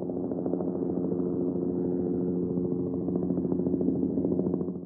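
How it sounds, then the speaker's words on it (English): A helicopter's steady, droning engine with a rhythmic chopping pulse, continuous and fairly loud throughout, no voices. "Helicopter."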